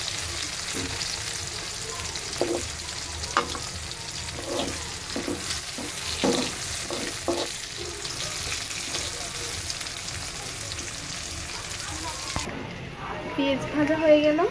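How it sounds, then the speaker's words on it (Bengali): Chopped onions fry in hot oil in a home kitchen, with a pabda fish curry on the way; a steady close sizzle runs throughout, broken by repeated scraping stirs, with a louder, shifting burst of stirring near the end. "এখন এই তেলেই আমি পেঁয়াজগুলো দিয়ে দিচ্ছি। একটু ভেজে নিতে হবে।"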